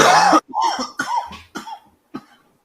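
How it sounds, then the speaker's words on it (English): A string of coughs close up, a strong first burst followed by several weaker, shorter hacks tapering off. "I keep coughing, drinking water"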